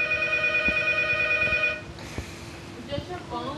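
A telephone rings with a steady electronic tone that carries over background talk, then cuts off partway through, leaving voices and faint room noise.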